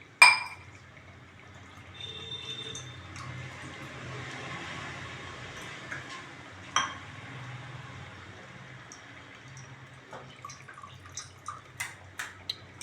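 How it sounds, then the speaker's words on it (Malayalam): Tamarind water trickles and drips into a pot of Udupi-style sambar, a quiet liquid pour with scattered splashes and a few sharper drops near the end. "ഇപ്പം ഞാൻ ഇതിലേക്ക് പുളി ഒഴിക്കാൻ വേണ്ടി പോകുന്നു"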